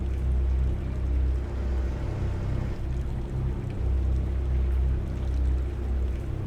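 Boat engine in a Highlands fishing simulator game, a steady low droning rumble that runs continuously at an even level with no talking over it.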